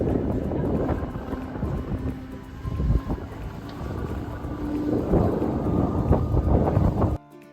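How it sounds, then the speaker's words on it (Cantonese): A public ferry crossing the sea near Oslo, Norway, produces a steady low engine rumble mixed with loud, gusting wind buffeting the microphone throughout, with no speech, before cutting off abruptly near the end. "坐公共渡海小輪去咗一個小島遊船河，就係坐呢款船啦。"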